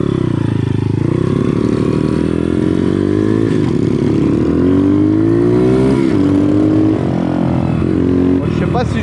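A motocross bike engine revving loud and close in a Hmong village in French Guiana, a continuous rough drone rising and falling with throttle, with a voice speaking over it.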